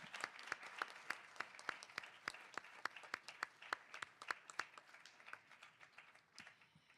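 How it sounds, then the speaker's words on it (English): A panel audience at a Latin American policy forum applauds indoors. The claps are sparse and distinct, from a smallish crowd, and carry on at a steady pace for about seven seconds before thinning out. "Let's give them another round of applause."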